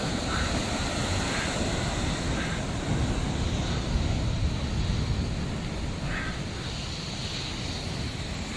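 Heavy surf pounds against rocks along the Madeira coast, a steady, loud broadband roar with surges throughout and wind buffeting the microphone.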